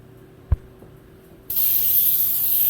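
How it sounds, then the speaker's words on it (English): Baker's Joy baking spray sprayed into a bundt pan, a short click followed by a loud continuous hiss that runs to the end. "I'm going to spray it real good before I put my cake mix in."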